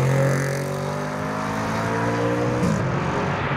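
An Audi RS4 revs hard and accelerates away from a car show, its loud engine note rising steadily, then shifting pitch near the end as it pulls off into the distance.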